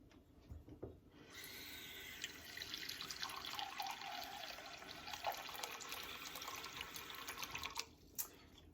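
A tap runs steadily for several seconds, water streaming into a cup close by, then shuts off with a couple of small drips.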